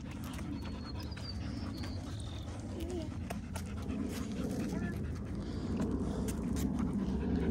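Rapid, rhythmic panting from a dog close by, continuing steadily over background chatter, with faint birdsong and distant traffic.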